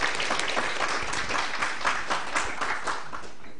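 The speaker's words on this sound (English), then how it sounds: "I think it already deserves another clap" Audience clapping after a presentation at a public participation workshop on Kenya Pipeline Company storage and pipeline facilities: dense, steady applause from a roomful of people, loud and continuous throughout.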